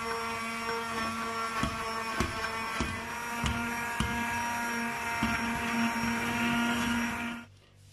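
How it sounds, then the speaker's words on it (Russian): A blender whirs steadily up close in a pot of soup with a few sharp knocks, then cuts off just before the end. "Теперь немножко поработаем блендером."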